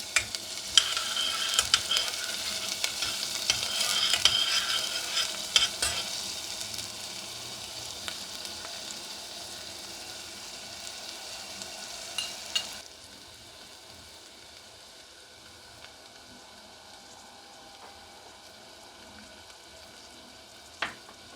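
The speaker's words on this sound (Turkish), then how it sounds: "içerisine doğramış olduğumuz soğanlarımızı ekliyoruz ve 2 dakika kavurmaya bırakıyoruz" Chopped onions sizzle and crackle in hot oil for lentil soup, loud at first with stirring, then settling into a quieter, steady fry.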